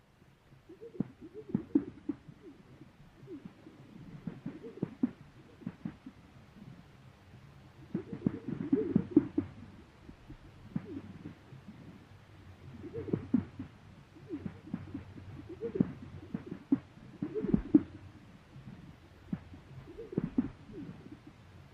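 Low, hollow booming display calls of grouse repeat in rhythmic pulses every few seconds, soft and distant, with some faint clicks between them.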